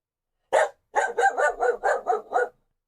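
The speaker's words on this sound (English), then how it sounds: "There's a dog barking outside." A female dog barks outdoors: one sharp bark, a brief pause, then a quick run of about six loud, evenly spaced barks, fairly close, with no voices over them.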